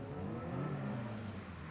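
A large saloon car at a Northern Ireland autotest crosses the finish line close by, its engine note rising and then easing as it sweeps past in a steady mid-pitched drone.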